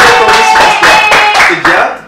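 Classroom of students applauding together for a classmate's birthday, a steady burst of many hands clapping in uneven waves with some voices mixed in, fading near the end.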